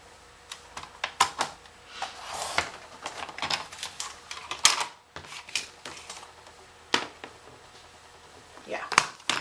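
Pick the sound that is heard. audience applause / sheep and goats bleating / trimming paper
trimming paper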